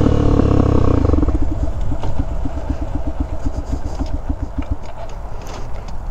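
A carbureted motorcycle engine, run with the choke on, thrums loudly at first, then settles into a loping, uneven idle of distinct pulses that weaken and stop as the engine stalls, leaving quiet outdoor background.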